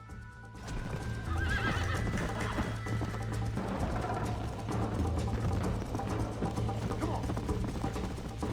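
A horse in the Red Dead Redemption video game whinnies and gallops with steady clip-clop hoofbeats over a continuous low engine-like drone, loud and close throughout.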